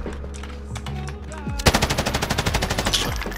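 A light machine gun in the shooting game GunFight fires a rapid, loud sustained burst of about twenty evenly spaced shots, preceded by softer clicks and game sounds.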